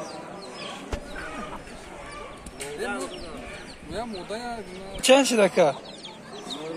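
Chickens cluck and squawk in cages at a busy poultry market, with a sudden loud flurry of alarmed squawks partway through, while men nearby haggle over prices.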